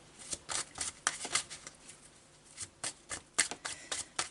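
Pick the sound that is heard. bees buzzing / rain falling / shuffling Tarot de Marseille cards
shuffling Tarot de Marseille cards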